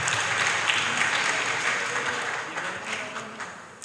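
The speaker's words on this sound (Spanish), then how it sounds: "darte un último aplauso para el seguimiento de este trabajo tan importante" Audience applause at a panel event on artificial intelligence in Colombia, a dense, steady roar of many hands clapping that holds strong and then gradually thins and fades toward the end, with no voices over it.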